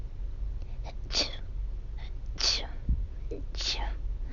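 A narrator's voice imitates an allergic sneezing fit, with three whispered, hissing sneezes spaced about a second apart, each with a short breathy intake before it, quiet and close.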